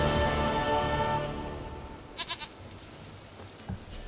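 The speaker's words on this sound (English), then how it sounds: "Goat of mine, dearest," A goat in The Witcher 3 gives a few short bleats at moderate distance, set against a dense ambient game background with no talking.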